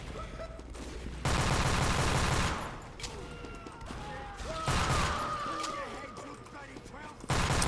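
Video game gunfire aimed at snipers beside a small barn, heavy sustained bursts of shooting in several loud stretches with quieter gaps, a voice talking underneath.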